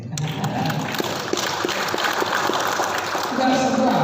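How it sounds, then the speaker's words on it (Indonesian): Applause at an official gathering of ministers in West Kalimantan, with steady clapping running for several seconds and a voice talking over it. "Itu ada tepuk tangan ya"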